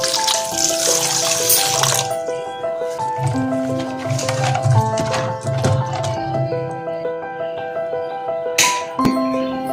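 Raw tamarinds are rinsed under a running kitchen tap, making a steady stream of splashing water with small clatters and drips as they are handled, set against a faint melodic background.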